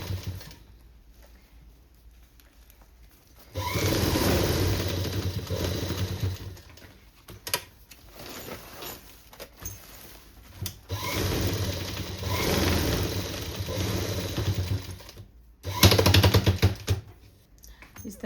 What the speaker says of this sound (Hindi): इसमें चारों साइड सिलाई लगा के इसको तैयार कर लेंगे।